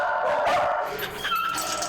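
Several dogs bark and yip at a humane association adoption event, with sharp close barks and whimpering yelps overlapping in a noisy indoor space.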